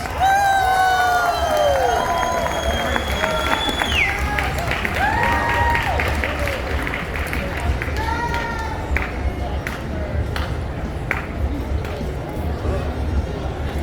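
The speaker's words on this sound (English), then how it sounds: "Give a big round of applause to the Brady Bunch." A crowd at Hofstra University claps and cheers loudly for the Brady Bunch cast, with whoops and high whistles rising over the steady applause and background chatter.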